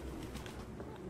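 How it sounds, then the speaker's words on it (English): Pigeons coo softly in a dingy abandoned room in the video game Detroit: Become Human, a low continuous murmur heard faintly under steady background noise. "Bro, there's pigeons."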